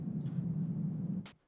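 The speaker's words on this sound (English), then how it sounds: "So once more, this is just the noise." Synthesized noise hisses steadily and fairly loud as a plain, unfiltered wash. It ends abruptly after a brief click.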